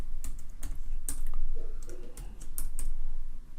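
Typing on a computer keyboard, with a handful of sharp, irregularly spaced key clicks close up over a low background hum and no speech.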